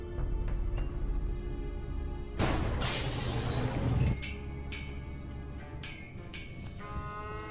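Glass pane above a lab door shattering in the Gibbous adventure game, a sudden loud crash with a bright spray of breaking shards lasting under two seconds, set against quiet ambient game music before and after.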